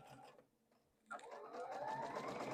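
Sewing machine stitching a straight quilting seam through two layers of fabric held right sides together, a steady whirring hum that starts after a brief pause and runs loud and continuous to the end.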